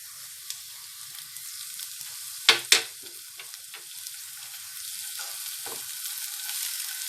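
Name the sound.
onion and ginger-garlic paste sautéing in a pan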